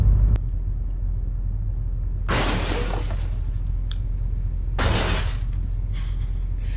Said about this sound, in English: that's gonna be like a crashing sound effect when you know it's damaged over time